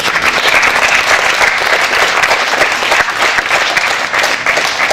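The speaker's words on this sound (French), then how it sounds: "je crois qu'on peut les applaudir" Applause from an audience fills the room, a dense, steady wash of clapping that holds at an even, loud level for the full five seconds without pause.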